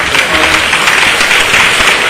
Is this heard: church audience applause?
yes